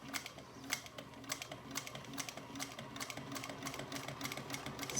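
A sewing machine stitches piping onto a vinyl handbag at a stitch length just under 4, a quick, fairly quiet rattling run of needle strikes with uneven bursts and brief pauses, and no voices.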